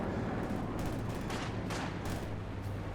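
PPSh submachine guns of Soviet conscripts firing in Company of Heroes 2, a dense, continuous battle din of rapid gunfire bursts over a constant low rumble.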